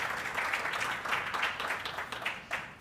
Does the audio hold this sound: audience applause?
yes